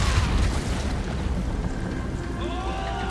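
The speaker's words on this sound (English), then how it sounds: "Just had to finish you before the explosion" A heavy explosion rumbles in Ghost of Tsushima, a loud low boom at the start that decays into a sustained roaring wash of rumble and crackle, with faint tonal game music rising near the end.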